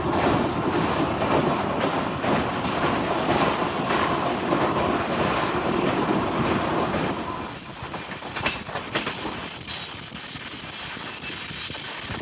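The Himsagar Express passenger train runs on rails bound for Rajasthan, heard from inside as a loud steady rumble with rhythmic clatter that eases to a lighter, quieter roll partway through.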